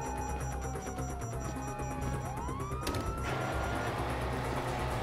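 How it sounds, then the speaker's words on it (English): Police sirens wail in Grand Theft Auto V, rising and falling tones over traffic and engine noise, with a sharp sweep midway and a louder siren near the end, no talk. "You hear that? Sirens!"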